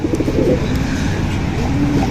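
Pigeons coo softly in low, repeated murmurs, with faint chirps and distant traffic in the background.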